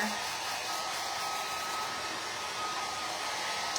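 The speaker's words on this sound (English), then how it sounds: "I'm just gonna hit it with a hairdryer just to make sure." Steady, continuous whoosh of a hair dryer blowing, close and even, with no talking.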